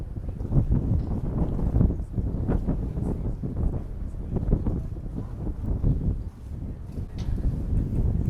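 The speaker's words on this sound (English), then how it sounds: "the wind is getting really bad" Strong wind buffets across the deck of a luxury tri-deck Majesty 120 superyacht, producing a continuous low roaring rumble with gusty surges.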